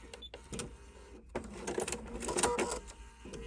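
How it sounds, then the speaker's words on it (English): Sewing machine stitching a foundation-pieced quilt block, a busy mechanical whir with rapid clattering stitches running nearly throughout, briefly pausing near the start before resuming steadily up close. "we are going to stitch that line. I'm going to go a couple stitches beyond it."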